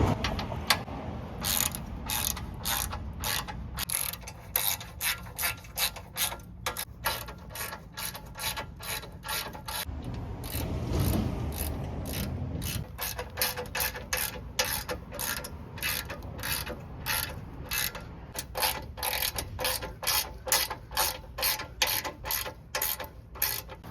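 A ratchet with a 19mm socket tightens bolts on a Jeep TJ GenRight front bumper, a fast, steady rattle of close metallic clicks in long rhythmic strokes, briefly broken by a duller rumble midway.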